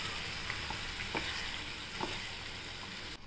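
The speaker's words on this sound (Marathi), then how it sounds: "छान परतून घेऊया" Mixed legumes are sautéed in hot oil, giving a continuous sizzle with a few scraping stirs of a spoon against the pan.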